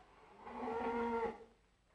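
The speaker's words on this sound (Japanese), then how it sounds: "駅から牛を引っ張ってきたもんで" A cow led from a railway station moos once in a 1942 Japanese film, a single low, sustained call that swells and fades over quiet background hiss.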